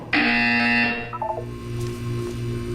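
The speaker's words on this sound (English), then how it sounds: "When you hear the buzzer, look down at the floor." A harsh electronic buzzer from the video game Portal 2 blares loudly for about a second, then cuts off, leaving a few short tones and a low mechanical hum behind it.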